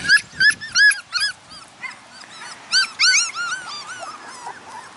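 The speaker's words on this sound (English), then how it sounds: "I love their little barks at this age." Young Parti Doodle puppies outdoors give a run of high, thin yips and squeaky whimpering barks, repeated in quick clusters close by against a soft background hiss.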